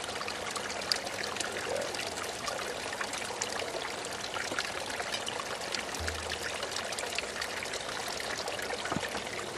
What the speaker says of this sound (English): fill up the big carboy